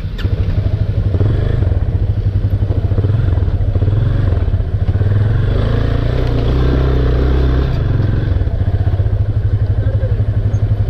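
A motorcycle engine struggles to start while climbing uphill roads in Palpa, giving a loud, continuous low rumble with rough clattering and uneven revving throughout.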